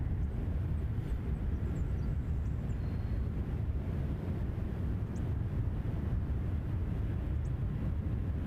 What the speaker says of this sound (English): Korean Dreamliner coming in next on this side.